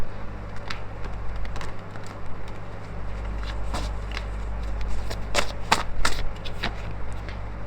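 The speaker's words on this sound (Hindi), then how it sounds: "अगेन मैंने शफल करा अभी" Tarot cards being shuffled by hand, a run of quick, close papery riffles and flicks that thickens toward the end over a steady low hum.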